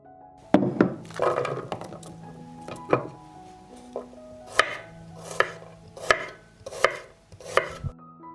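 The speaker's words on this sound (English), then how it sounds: "I cut the peppers into fillets and will mince 1 head of garlic" Knife chopping peppers into fillets and mincing garlic on a cutting board: a run of sharp, distinct thunks, irregular at first, then evenly spaced strokes, close and crisp with no talk.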